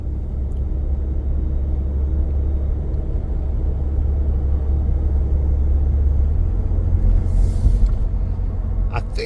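A 2026 Ford Expedition Platinum 4x4 with a 10-speed transmission and Nitto Grappler tires drives along, giving a steady, loud low cabin rumble of engine and road noise with a slight surge as it shifts.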